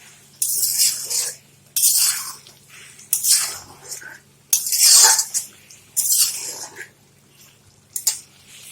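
Chicken scrap meat stir-fried and stirred in a pan with salt, giving repeated bursts of bright sizzling and scraping about once a second, close and fairly loud, with quieter gaps between strokes and no talking.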